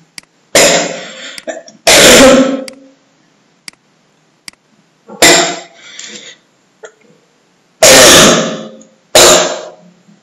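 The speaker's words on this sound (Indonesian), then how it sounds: "batuk-batuk sedikit" Several loud, harsh coughs and throat clears come in separate bursts with silent pauses between them, close to the listener.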